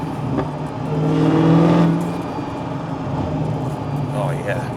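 Supercharged 2015 Dodge Challenger Hellcat engine revving after a downshift while driving, a loud, steady rumble that swells and eases, with someone talking over it.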